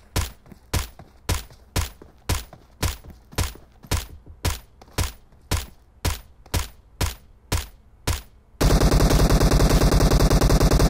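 A QBU88 marksman rifle fires in PUBG Mobile, about fifteen loud, evenly spaced shots roughly every half second, each with a short decaying tail. A sudden continuous buzzing tone then cuts in and runs to the end.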